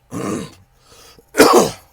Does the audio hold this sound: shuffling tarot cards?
no